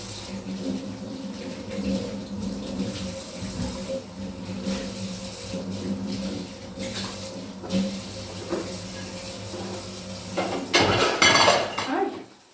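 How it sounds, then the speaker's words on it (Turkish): Dishes being rinsed in a home kitchen sink, with a steady clatter of plates, pots and cutlery under a low wash of running water, growing busier and louder near the end. "Tekrardan durulamaya geçecek arkadaşlar"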